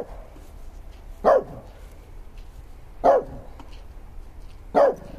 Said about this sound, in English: Stop barking at the nice man.